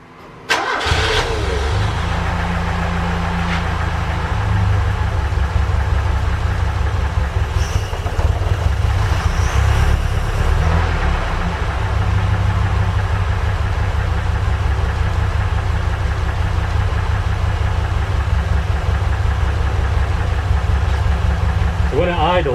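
A Ford Capri Calypso, dormant for 14 years, cranks and fires into a steady, slightly lumpy low idle that rumbles on continuously and loud, with someone speaking over it.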